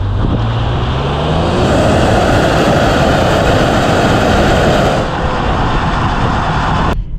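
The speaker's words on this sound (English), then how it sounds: "we're gonna get a little acceleration up here" A 2020 Lincoln Aviator Grand Touring hybrid SUV in Excite mode accelerates, giving a steady, loud engine drone and road roar that holds for several seconds and then eases slightly near the end.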